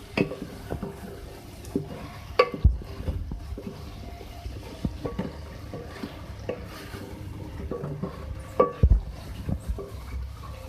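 Tomatoes softening in a pan of chicken salan as they are stirred with a spoon. Quiet scraping and faint sizzle, with occasional soft clinks against the pan.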